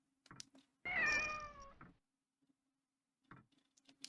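A single drawn-out cat meow from the horror game Otogirisou, close and clear, rising then falling over about a second against near silence, with faint ticks before and after.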